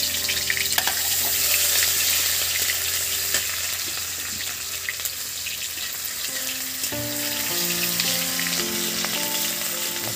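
Garlic fries in a pan for ghugni with a steady, close sizzle and crackle that runs unbroken throughout, with no talking.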